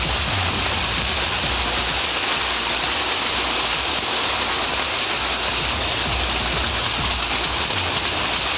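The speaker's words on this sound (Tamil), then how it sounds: "ஈரோடு மாவட்டம் தாளவாடி பகுதியில் பெய்த ஆலங்கட்டி மழையால் பனிப்பிரதேசம் போல காட்சியளித்தது" Hail pelts down steadily during a hailstorm in the Thalavadi area of Erode district, Tamil Nadu, making a dense, continuous hiss and patter, loud and close, with no voices over it.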